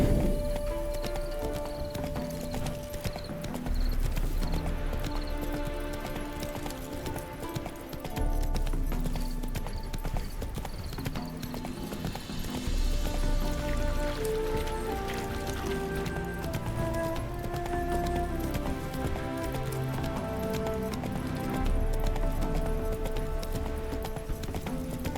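Steady clip-clop of horse hooves in The Witcher 3: Heart of Stone plods on under continuous background music, with a horse's whinny rising partway through.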